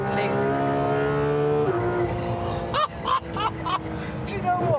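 Car on a track, a high revving engine note climbing through the gears with a shift midway, then a series of sharp bursts and tire chirps, with voices talking over it.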